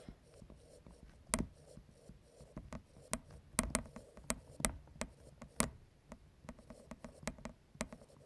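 While teaching a maths lesson on the types of triangles, someone writes on a board in crisp, irregular taps and short strokes. The marks are close and fairly quiet against a hushed room.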